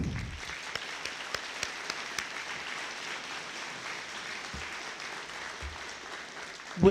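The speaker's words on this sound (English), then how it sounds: "Let's give Dr. Francis a round of applause" Audience applause at a police academy graduation ceremony, a steady wash of clapping across the room with a few sharper individual claps standing out, ending in a brief louder burst.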